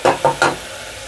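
Tomato puree hitting ginger garlic paste frying in a hot pan for tomato rice: three quick, loud sizzling splashes in a row, close by, then a softer sizzle that lingers.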